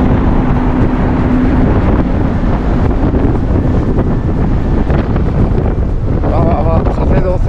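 Strong wind roars across the open deck of the ferry Sunflower Satsuma near the funnel, a loud, unbroken blast buffeting the microphone for the whole stretch, with engine rumble beneath.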